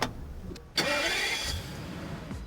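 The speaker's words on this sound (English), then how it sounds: "It allows you to fire up the engine from a safe and sound 100 metres away." A car engine fired up by remote start from about 100 metres away: a brief crank, then the motor catches with a loud burst and settles into a steady idle.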